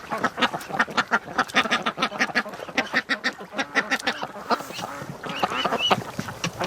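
A flock of domestic ducks quacks loudly and continuously, with rapid overlapping calls from several birds close by, gathered at an afternoon feeding call in drizzly Canadian weather.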